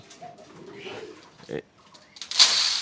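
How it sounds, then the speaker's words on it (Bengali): A soft, low wild dove coo drifts in nearby, followed by brief voices and a sharp rustling or clatter toward the end. "দেখেন একটা ঘুঘু পাখি চলে আসছে এটা কিন্তু বন ঘুঘু"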